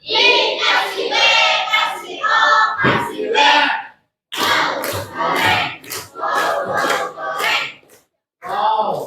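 A classroom audience claps and cheers after a group presentation, bursts of excited clapping and shouting voices rising and falling in several loud waves with short pauses between.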